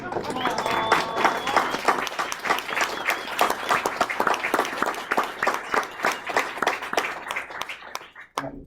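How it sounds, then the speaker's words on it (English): Attendees at a city council meeting give a round of applause, steady crisp clapping from a modest room crowd that tapers off near the end, with a brief voice at the close. "if everybody would please stand and give a little round of applause"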